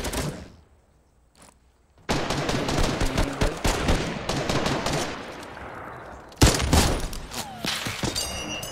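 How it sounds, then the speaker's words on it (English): Sniper gunfire in a Fortnite battle royale match begins after near silence, with a dense run of sharp shots and rapid bursts and a loud crack near the end, heavy and close, with no talking. "Oh my god, I'm getting double sniped at."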